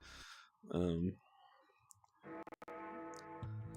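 A computer mouse clicks at a desk while running Windows 98: a quick cluster of sharp, close clicks set between stretches of someone talking.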